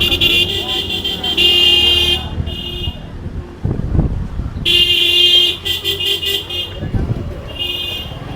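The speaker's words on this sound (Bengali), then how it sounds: "এই যে সবাই বাইক নিয়ে আসতেছে, দেখছেন?" Motorbike engines rumble and rev on a hill road in Sylhet, with passing bikes swelling in and out and bright car-horn toots over steady traffic noise, while people talk over it.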